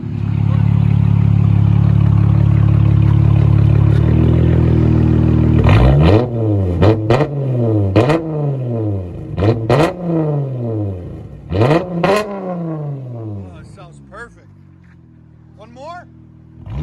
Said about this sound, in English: I think these are my new favorite Dynomax bullets. They're the minis. They sound really good.